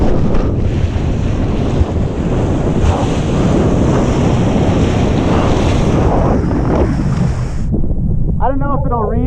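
Strong offshore wind of about 25 knots blows sand across a beach during a high-wind kitesurfing session. It is a loud, continuous buffeting roar close to the microphone, with surf underneath and a brief voice right at the end.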